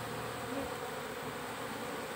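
Honey bees buzz steadily while being moved from a trap into a hive box, a dense, continuous droning hum held at an even level with no voices over it.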